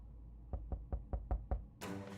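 Six evenly spaced, firm knocks on a door in the 60 Seconds Re-Atomized video game, a steady rhythm of close, solid thuds followed by a brief burst of noise.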